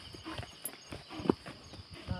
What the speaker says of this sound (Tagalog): Yan, hinihingal na yung kabayo ko.